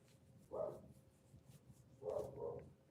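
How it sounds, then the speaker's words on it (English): A dog barks twice in a quiet room, a single bark followed by a longer double bark, somewhat distant and muffled. "My dog's barking. If you hear barking, that's my dog."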